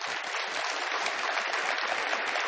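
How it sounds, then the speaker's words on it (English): Audience at an enterprise communications conference session gives a sustained round of applause, dense steady clapping throughout with no voices over it. "how about a big round of applause for Erin?"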